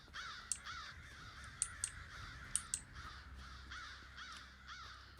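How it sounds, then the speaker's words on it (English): Crows in the Elder Scrolls Online video game caw repeatedly at moderate distance, several harsh calls scattered irregularly over a quiet, faint ambient background. "What's with all these crows?"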